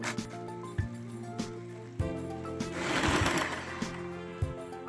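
An electric mixer steadily whines and hums while beating eggs, salt and sugar into a dough base for cream-filled pastry tubes, with periodic knocking of the beaters against the bowl and a rougher swell midway.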